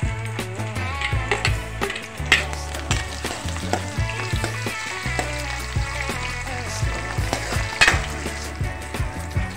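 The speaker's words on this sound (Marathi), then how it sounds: "कांदा चांगल्या प्रकारे लालसर होईपर्यंत मी परतून घेणार आहे" Finely chopped onion and cumin seeds fry in a pan for stuffed masala brinjal, giving a continuous sizzle and occasional stirring, while steady music plays throughout.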